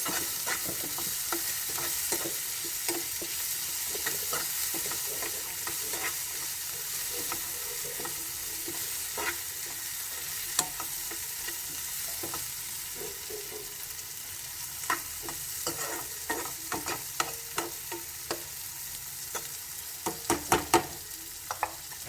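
Food frying in a pan for a palak paneer and potato masala gravy, a continuous sizzle broken by scraping and clinking stirring strokes that grow busier toward the end, with no voices.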